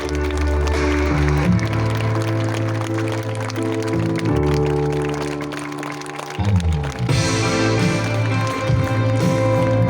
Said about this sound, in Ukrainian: Оплески до нас.